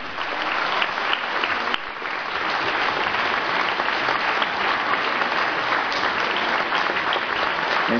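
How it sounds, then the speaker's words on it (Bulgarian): A large theatre audience claps steadily for a vocal group at a festival finale on a theatre stage, dense sustained applause filling the room with a brief dip near two seconds. "Аплодисменти още за вокална група Китчица."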